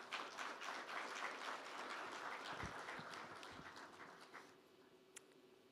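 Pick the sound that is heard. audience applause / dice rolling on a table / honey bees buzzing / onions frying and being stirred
audience applause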